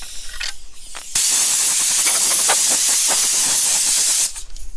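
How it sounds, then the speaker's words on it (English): A small pancake air compressor blows a steady, loud hiss of air for about three seconds while dusting off a wildlife mount, with quieter rustling before and after the blast. "I'm going to be using an air compressor, a little pancake air compressor"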